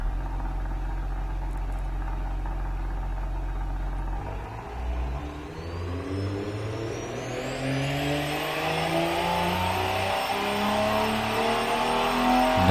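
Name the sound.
car engine revving without muffler, from video game Automation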